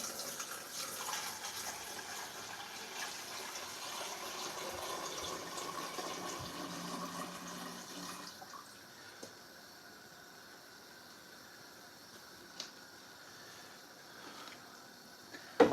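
Tesco bottled water pours steadily for home brewing, a soft continuous hissing splash that fades to a quieter trickle partway through, with a few small clicks and knocks near the end.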